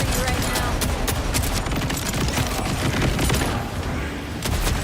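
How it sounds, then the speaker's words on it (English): Rapid, dense explosions from the Dark Beast weapon in the video game Borderlands 4, a continuous crackling barrage of bursts lasting the full stretch at steady loudness. "The explosions from the Dark Beast"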